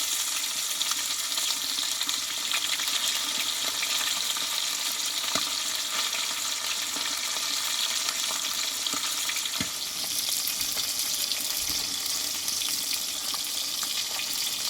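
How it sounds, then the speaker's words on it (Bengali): Tilapia fish frying in hot oil makes a dense, even sizzle that runs loud and close without letup, with faint crackles and no voices. "এবার বাকি মাছটাও আমি একই প্রসেসে ভেজে নেব"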